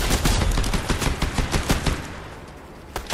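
Rapid bursts of automatic gunfire in Fortnite rattle close and loud, with dense overlapping shots for about three seconds.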